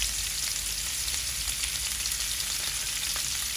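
Ginger-garlic paste frying in a pan for egg curry, a dense continuous sizzle, loud and close, with faint stirring scrapes under it and no talking.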